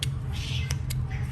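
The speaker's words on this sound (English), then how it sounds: "God, I'm sorry about the cats" Domestic cats meowing indoors: a couple of short, fairly quiet meows over a low steady hum, with no speech.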